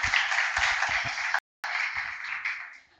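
An audience applauds to welcome a speaker at a talk on life crises. The clapping is steady and moderately loud, breaks off for a moment in the middle, then resumes and fades away at the end.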